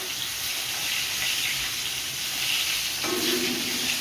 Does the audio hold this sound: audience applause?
no